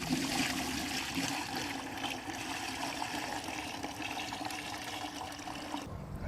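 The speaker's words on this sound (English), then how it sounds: "I'm going to take the blend and pour it in." A liquid plant blend for homemade organic fertilizer is poured through a sieve into a bucket, a steady, close splashing gush of water that runs continuously without a break.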